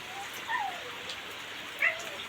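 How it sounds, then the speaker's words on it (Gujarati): Steady rain falls in a constant broadband hiss, moderately loud, with a couple of brief higher chirps cutting through and no talking. "વરસાદ વરહી રહ્યો"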